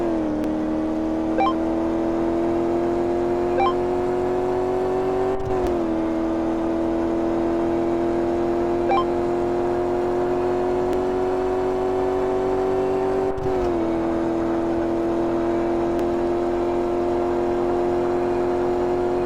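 In a racing simulation, a not-so-powerful car on slick tires makes a quarter-mile run, its engine whining in a steady rising drone that drops briefly at two gear shifts before climbing again, with no talk over it.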